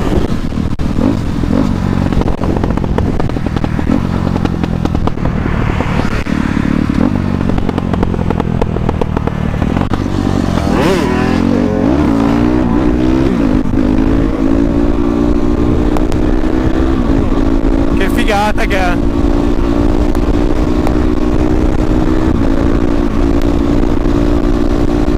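KTM and Fantic motorcycles revving hard while riding wheelies, a loud, continuous engine roar that climbs in pitch around the middle and holds a steady high drone to the end.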